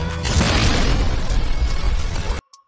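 A grenade goes off in a live-action action film, producing a loud, sustained explosive roar and rumble that cuts off abruptly into near silence.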